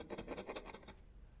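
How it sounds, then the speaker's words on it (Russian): Gypsum plaster is scraped in a quick run of about eight faint, rhythmic rasping strokes that then fade away, heard close up with no voices. "Вот звук гипса."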